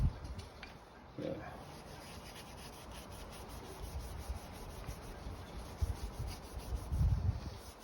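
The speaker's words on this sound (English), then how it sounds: "Just using some Scotch-Brite scouring pad." A Scotch-Brite scouring pad scrubs grime and grease off an engine piston in steady, close, soft abrasive rubbing strokes, fairly quiet, with a few louder bumps along the way.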